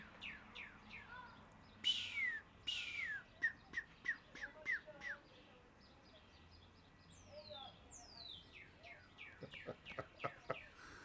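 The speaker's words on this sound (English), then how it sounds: "is a cardinal singing at me over there." A cardinal sings outdoors near a porch, a series of clear, whistled chirps rising and falling in quick runs, fairly close and moderately loud, with other bird calls faintly in the background.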